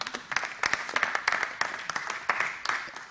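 Scattered hand clapping from a small audience at a town planning board meeting, uneven claps in quick bursts over a few seconds.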